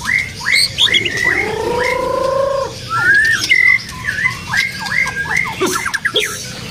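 A wild-caught oriental magpie-robin (murai batu) from Aceh sings loud and close, with a varied run of whistles, sliding notes and rapid chattering phrases against faint background noise.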